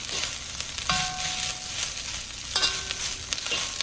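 Rice fries in a wok for Thai crab fried rice, a dense continuous sizzle broken by two metallic spatula clangs that ring briefly against the wok, close and without speech.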